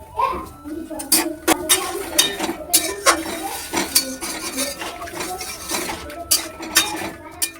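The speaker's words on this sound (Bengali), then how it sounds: "একটু মজা আসার জন্য উঠিয়ে নিচ্ছি ঢাকনাটা, এবার ঢেকে দিচ্ছি।" A lid clatters off a cooking pot of prawn curry and is set back on, bringing a string of sharp metallic clanks and scrapes close by, under soft background noise.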